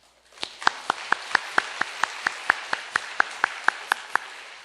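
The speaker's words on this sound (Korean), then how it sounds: "잠시 일어서시면 박수로 환영하겠습니다" A church congregation claps to welcome a new member, a rhythmic run of about sixteen evenly spaced claps in unison over a faint background.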